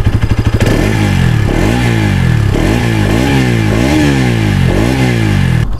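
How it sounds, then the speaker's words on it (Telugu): Bajaj Pulsar NS200 BS6 motorcycle, a 2020 model, revving up close: a loud, bassy exhaust note rises and falls in repeated throttle blips, starting with a fast idle chug, with no talking over it. "ఒకసారి ఎగ్జాస్ట్ నోట్ వినండి"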